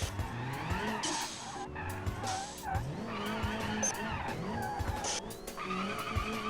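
Car drifting in the BeamNG driving game, tires squealing in long wavering screeches as the engine revs and drops, with a player talking faintly underneath.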